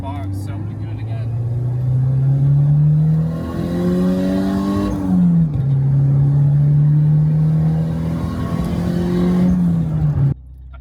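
Turbocharged Honda Integra engine, close and loud, revving up with a climbing pitch that flattens and sags as it bogs down, then repeats the same rise and stall before cutting off.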